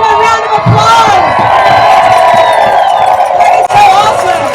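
A dense rally crowd at an outdoor No Kings protest at the Ohio Statehouse roars with sustained cheering, whoops and applause, loud and continuous throughout with scattered shouts rising above the din.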